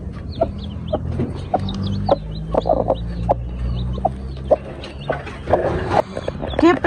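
A hen clucks steadily in short repeated calls beside her newly hatched chicks, whose high peeps come through close by, while someone speaks softly now and then.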